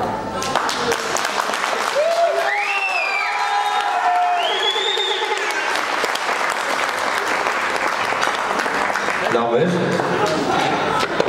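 Wedding guests at an Armenian celebration clap in a dense, continuous burst of applause with cheers and whoops mixed in, while voices shout over the crowd.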